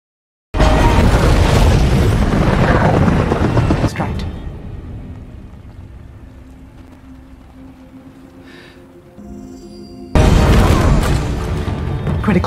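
A massive helicopter explosion in The Matrix Resurrections bursts loudly and rumbles for several seconds, fades into a low roar, then a second loud blast erupts near the end.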